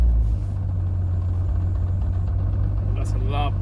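Car engine idling with the air conditioning switched on, a loud, steady low rumble close by, with a brief faint chirp near the end.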